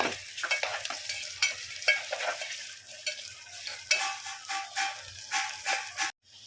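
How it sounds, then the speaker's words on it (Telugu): Onions with ginger-garlic paste frying in a pan for mutton paya curry, a steady close sizzle broken by repeated scraping stirs of a spatula against the metal, with no voices. "ఇప్పుడు ఉల్లిగడ్డ అయితే వేగుతుంది మళ్ళీ అల్లం వెల్లిగడ్డ వేస్తున్నా కొంచెం అంతా అంతా కలుపుకోవాలి"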